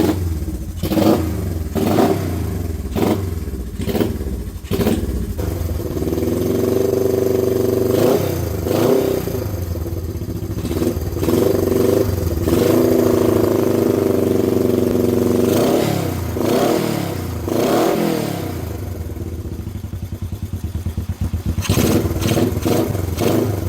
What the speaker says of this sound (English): idles no problem, revs no problem